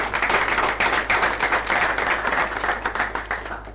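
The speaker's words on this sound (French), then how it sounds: "Est-ce qu'on peut applaudir?" Steady audience applause at a live quiz-style show, a dense wash of many hands clapping continuously and fairly loud throughout, with no talk over it.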